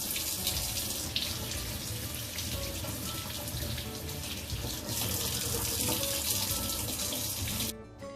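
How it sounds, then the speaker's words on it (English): Cold tap water runs steadily over brined salmon pieces being rinsed in a sink, a loud continuous splashing rush that cuts off abruptly near the end. "we're going to rinse each piece under cold water just to rinse off all the excess brine"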